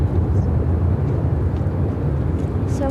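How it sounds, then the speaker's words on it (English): A China Airlines Cargo Boeing 747-400 freighter taking off from Chicago O'Hare, a loud broad continuous jet roar with heavy low rumble, steady throughout, with voices talking underneath. "This is China Airlines Cargo 5239 taking off to Anchorage"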